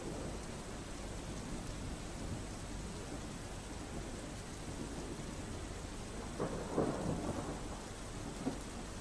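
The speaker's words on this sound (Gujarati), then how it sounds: "અમરેલીના બગસરામાં ધીમી ધારે વરસાદ શરૂ થઈ ચૂક્યો છે" Light rain falling steadily in Bagasara, Amreli, a soft continuous hiss with no clear individual drops, with a faint rumble in the background.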